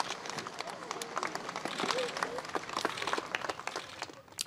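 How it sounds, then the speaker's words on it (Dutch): Applause from a crowd lining the route of a funeral procession as roses are tossed onto the hearse, steady scattered clapping throughout, fairly distant and mixed with crowd murmur. "Begeleid door applaus."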